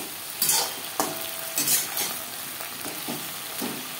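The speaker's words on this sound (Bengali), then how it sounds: "ভেন্ডি হালকা করে ভেজে নেব।" Okra fries in a pan with salt and turmeric, a close, continuous sizzle with several distinct scraping stirs and taps of a spoon spread across the moment, with no voices.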